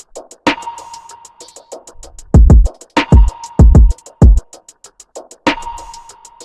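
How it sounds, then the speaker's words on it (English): Simple drum loop with punchy kick drums, a sharp snare hit on repeat and quick ticking hi-hats in a steady pattern, loud and close with no voices. "Here's a simple drum loop."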